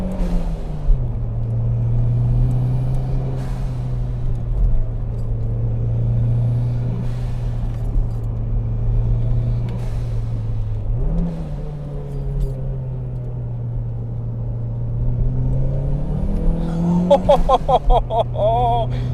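A turbocharged Toyota MR2 with a stock CT26 turbo and billet internals drives on the road, its engine droning steadily and close, with a brief rise in pitch midway and a louder burst near the end.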